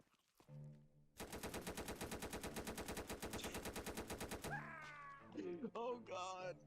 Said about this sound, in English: This guy sprays into the runner with a fully automatic rifle without it even pretending to be phased